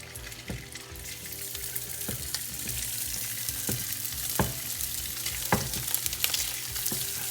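Meatballs fry in a hot pan with olive oil, giving a steady close sizzle broken by sharp spatters and pops every second or so, with no talking.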